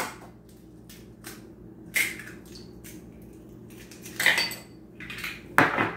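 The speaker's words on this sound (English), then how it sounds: "Just fold it right into the salmon." Egg being folded into a salmon burger mixture in a bowl: soft wet squishing punctuated by a few sharp utensil clinks against the bowl, close and quiet, with no voices.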